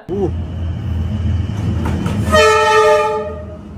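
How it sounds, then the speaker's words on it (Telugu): A train runs between houses in Bandra, Mumbai, its low rolling rumble steady throughout, then a loud, close horn blast sounds over the last second and a half. "గల్లీలకేంచి కారు గద పోయినట్టు ట్రైన్ పోతున్నది ఇండ్ల మధ్యలో నుంచి"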